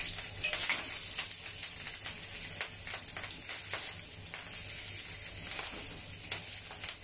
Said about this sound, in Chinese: 咁而家我哋可以咧就反一反佢，煎另外一邊。